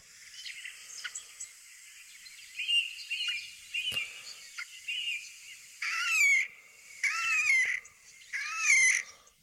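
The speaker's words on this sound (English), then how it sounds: "Shall we listen to the noise of the Slavonian grebe?" Slavonian grebe calls played back from a bird-sound recording: a run of high whistling notes followed by three loud, rapid trilling bursts toward the end, with no talk over them.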